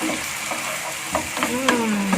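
Green beans sizzle and crackle in a hot pan while a utensil stirs and scrapes a few times.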